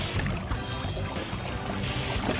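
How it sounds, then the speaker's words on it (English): Water pours and splashes steadily over a caught tarpon's gills, a continuous gurgling trickle with no voices. "Just gonna open her mouth up, put a little water over her gills."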